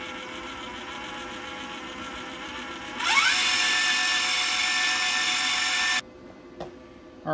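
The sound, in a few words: PrimeWeld MIG 180 spool gun wire feed running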